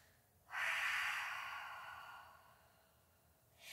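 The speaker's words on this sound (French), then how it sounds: "Prends une profonde respiration complète dans le chien tête en bas" A single deep, full breath drawn in a yoga downward dog pose: a long broadband airy rush that starts abruptly, swells, then slowly fades over about three seconds, close to the microphone, with no talking.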